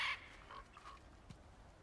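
A bird in God of War Ragnarök lets out a short, raspy crow-like caw at the start, followed by fainter chirps fading into a quiet background.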